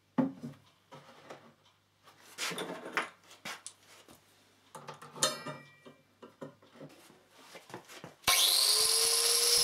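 Husqvarna CTH151 lawnmower blade being ground by hand, with irregular scraping and grinding bursts that end in a loud, continuous high-pitched power-tool whine, close and without talk.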